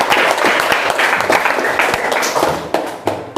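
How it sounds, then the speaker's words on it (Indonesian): Classroom applause from students during a guidance counseling lesson: dense, irregular clapping from many hands, fairly close and loud, with a few sharper individual claps near the end and faint voices mixed in. "Ya, tepuk tangan."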